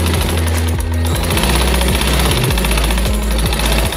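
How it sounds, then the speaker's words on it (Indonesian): Loud sewing machine stitching a batik dress at a tailor's, a steady mechanical drone with a rapid repeating rhythm that runs continuously and fills the whole stretch with no talk. "Dan suara mesin jahit yang sangat menggelegar ya teman-teman."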